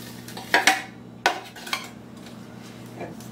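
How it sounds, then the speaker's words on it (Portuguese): A spoon clatters and scrapes against a bowl while crushed biscuit is mixed with ground peanuts for homemade paçoquinha. Several sharp knocks come early, then softer scraping fades out in a quiet kitchen. "Já triturei também a bolacha, agora nós vamos misturar aqui junto com o amendoim."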